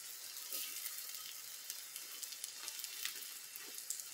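An omelette fries in a frying pan with a faint, continuous crackling sizzle, small pops scattered evenly through it and no voices.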